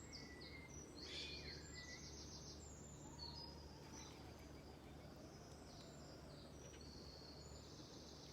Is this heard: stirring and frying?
no